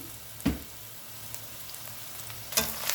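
Chilli powder and coriander powder frying in oil in a pan, a soft continuous sizzle broken by two sharp scraping stirs of a spoon, close and fairly quiet with no talking.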